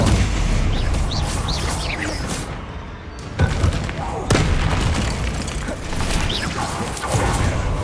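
Confringo blasting spell explosions in Hogwarts Legacy, sharp booming blasts and crashing impacts over continuous game noise, two strong hits standing out midway amid rumbling debris.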